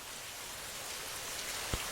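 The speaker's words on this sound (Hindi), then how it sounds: "बारिश लगातार बरसती रही" Steady, dense rain falls continuously in a cartoon scene, an even hiss of drops with a single brief splash-like tap near the end, heard alone without voices.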